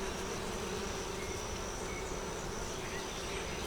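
Honey bees buzzing at the hive while bringing in pollen, a steady, dense drone from many insects close by, continuous and unbroken with no talking.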